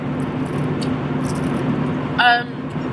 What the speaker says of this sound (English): this car's road noise is so loud.